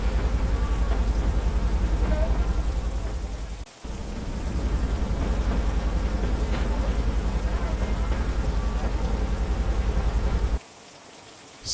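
A train runs steadily along the tracks through rain on a stormy night, a continuous dense rumble and rattle that holds for about ten seconds before cutting away to a quieter hush.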